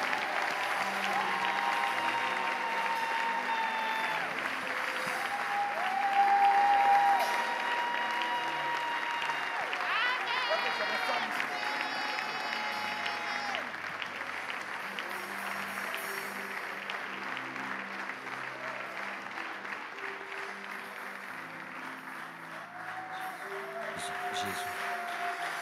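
A church congregation applauds and cheers to welcome a reverend, a sustained, lively wash of clapping and voices filling the hall, with a brief swell early on and singing or chanting tones running through it.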